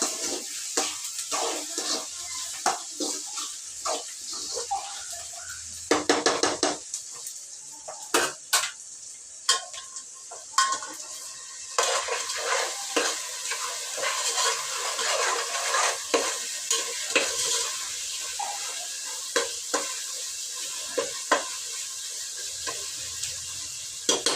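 Onion, tomato and ginger-garlic paste are stirred in a pan, with a soft sizzle under frequent clinks and scrapes of a spoon against the metal that run on irregularly for a long stretch, with no speech.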